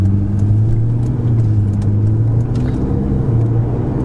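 A Ferrari 488 GTB cruising in sixth gear at low speed, its engine holding a steady, deep, even drone throughout with no revving, heard from inside the car and with no talk.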